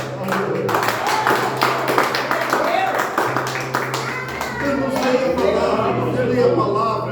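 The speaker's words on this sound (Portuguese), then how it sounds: "Vamos aplaudir a Jesus por isso, irmãos?" A church congregation claps in praise during a service, scattered rhythmic clapping running beneath a sustained low musical drone while voices talk and call out over it throughout.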